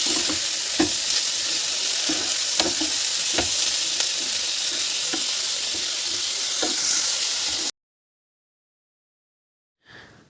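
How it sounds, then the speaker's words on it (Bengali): Potatoes fry in a pan with a steady, loud sizzle, while a spatula clacks and scrapes at irregular intervals. After about eight seconds the sound stops abruptly into silence, and a brief noise returns near the end. "তো আমি এখন আলুটা ভেজে নেব"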